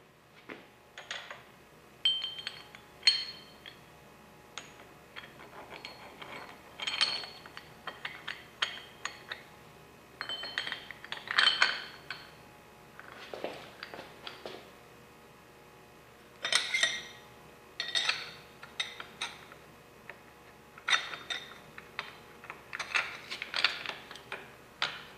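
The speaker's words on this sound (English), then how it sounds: "So this is Miller Tool 6449. And I'll do a bit of assembly here." Metal parts of a Miller Tool 6449 puller, used for removing fifth gear from a Dodge NV4500 transmission, clink, click and ratchet in irregular bursts during assembly, close and fairly loud with no talk.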